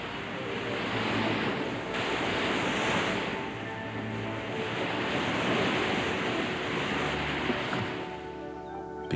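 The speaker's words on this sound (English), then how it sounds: "At popular Thunder Hole, waves assail the rocks with surging strength." Ocean waves crash and surge against the rocks at Thunder Hole on the Maine shoreline, a loud continuous roar of surf with rising swells and wind noise.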